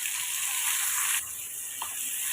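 Chopped onion, green chili and garlic sauté in hot oil with mustard and cumin, giving a steady, close hiss of frying that eases slightly partway through, with no talk.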